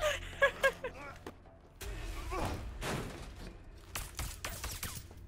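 Bursts of gunfire strike a player in the co-op prison escape game A Way Out. A loud cluster of sharp shots is followed by scattered thuds and further impacts, with voices talking in the background.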